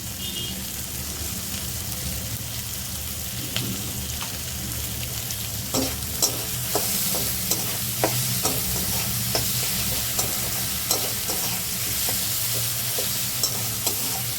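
A frying mixture in a pan is stirred after salt goes in, a constant sizzling hiss broken by repeated sharp scrapes and taps of a spatula against the pan.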